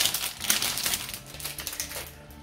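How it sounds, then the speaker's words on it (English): Close, continuous crinkling and rustling as Assassin's Creed merchandise is unwrapped from its packaging, with dense crackles running throughout and no voices. "so let's unwrap this."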